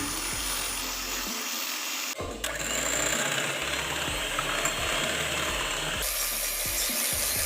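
An electric hand mixer whirs continuously as it beats white forest cake batter in a bowl, a close mechanical drone that cuts briefly midway and then resumes.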